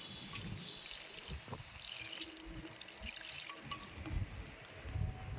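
Water poured from a container onto freshly sown fenugreek seeds in a rooftop garden pot, a steady close trickle and splash with a few brief surges, no talk.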